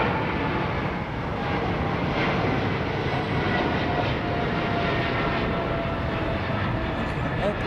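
Aircraft engines at London Heathrow Airport give a continuous, broad, steady roar that stays loud and even for the whole stretch.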